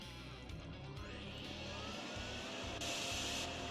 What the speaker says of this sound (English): Let's get a little vacuum.